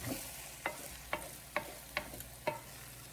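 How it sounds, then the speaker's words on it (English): Jollof rice stirred in a pot to mix in the burnt parts, five evenly spaced scraping spoon strokes over a soft, continuous sizzle, close and fairly quiet. "I'm going to try and mix in all the burnt parts."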